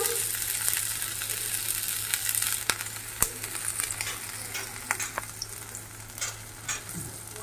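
Ginger sizzles and crackles in hot white refined oil in a pan, a steady close frying hiss broken by sharp pops and the scrape of stirring.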